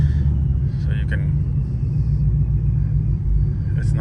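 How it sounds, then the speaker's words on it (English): Supercharged Ford Mustang GT idling just after a cold start, a deep steady low rumble filling the clip, heard from inside with a few faint clicks and knocks over it. "It's cold start, so it's going to be that's the loudest the car is going to be."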